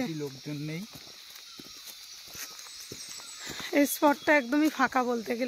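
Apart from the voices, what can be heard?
crickets chirping near a quiet lake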